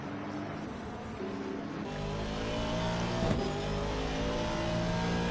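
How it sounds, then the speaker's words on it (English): An Aston Martin V8 race car in Assetto Corsa Competizione at Misano roars steadily under load, its engine note climbing as it accelerates, loud and close with no talking. "As we just hear the powerful roar of that V8 engine."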